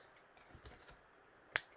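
A single crisp snip of craft scissors cutting linen thread at a desk, heard near the end after quiet handling noises.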